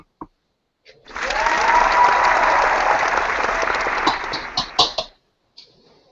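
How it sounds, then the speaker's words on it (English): Applause celebrating five years on Twitter, a single burst of clapping that swells quickly, holds for about four seconds, then breaks into a few scattered claps before stopping. "So a round of applause to my 5 years on Twitter"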